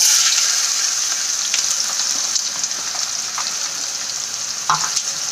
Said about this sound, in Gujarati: આ રીતે હલાવીને આપણે એને આછા ગુલાબી રંગની થાય ત્યાં સુધી એને સાંતળી લઈશું